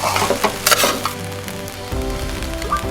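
Shrimp fried rice sizzles in a hot pan as it is tossed and mixed, with sharp scraping strokes early on giving way to a steady, close frying hiss.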